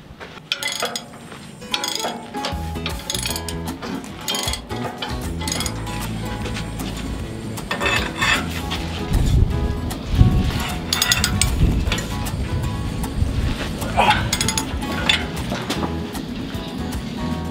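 A torque wrench clicks at its set torque while tightening a bolt on a trawler's rudder, giving sharp metallic clicks amid busy mechanical clatter and clinking.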